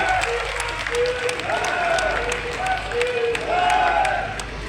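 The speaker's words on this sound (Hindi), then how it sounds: "जोरदार तालियां बजा करके इनको भी अपना आशीर्वाद दीजिए।" At an election rally with the Haryana chief minister, a large outdoor crowd applauds in a dense, sustained wash of clapping, while a voice over a loudspeaker continues talking on top of it.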